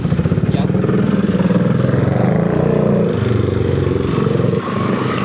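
A motorcycle engine throbs loudly up close on Shek O Road, its pulsing exhaust rising as it accelerates, with a rider's voice over it.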